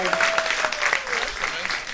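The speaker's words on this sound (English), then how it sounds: "another round of applause for Paul Leach" Applause from the crowd at an evening baseball game, Fighting Fish versus the Cadott Red Sox, runs as steady clapping beneath an announcer talking over a public address system.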